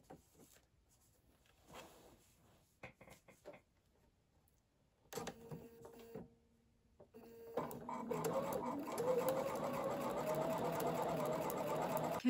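A sewing machine stitches fabric strips together with a quarter-inch seam allowance: short hesitant bursts and handling noises at first, then a steady, continuous whirring run of stitching that holds to the end.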